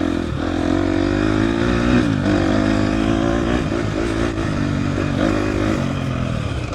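A 2024 KTM 250 XC-F dirt bike rides off-road in Texas, its engine droning steadily with rises and falls in revs and some clatter, close and loud throughout with no talking.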